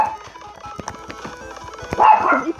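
A household dog barks in short repeated bursts indoors, several sharp yaps spread across the moment, the loudest cluster near the end, with some background noise under it.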